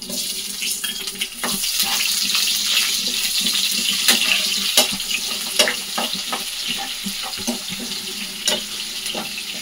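Steady crackling sizzle of onions frying in a pan, with scattered sharp pops and clicks throughout, fairly close and continuous.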